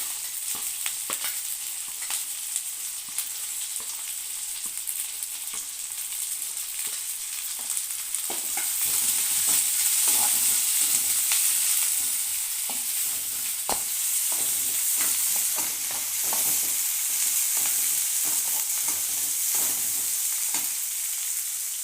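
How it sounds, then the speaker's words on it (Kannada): Garlic, dried red chillies and two green chillies sizzle steadily in hot oil for a vegetable tempering, a continuous bright crackle with scattered pops and light stirring clicks, close up and with no talk. "ಬೆಳ್ಳುಳ್ಳಿ, ಒಣಮೆಣಸಿನ್ಕಾಯಿ, ಎರಡು ಹಸಿಮೆಣಸಿನ್ಕಾಯಿ ಪಲ್ಯ ಒಗ್ಗರಣೆ ಮಾಡ್ತಾಯಿದ್ದೀನಿ"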